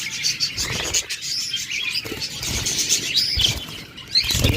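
Pet birds, including budgerigars, cockatiels and lovebirds, chirp and tweet steadily in cages at a bird sale, bright overlapping calls with some rustling and fluttering throughout.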